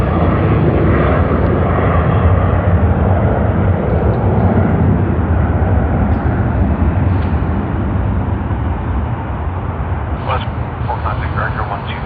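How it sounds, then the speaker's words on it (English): A Jetstar passenger jet arriving from Phuket at Sydney Airport produces a loud, sustained engine roar that fills the whole stretch, with airport radio chatter heard under it. "That is Jetstar JQ28 that's coming from Phuket."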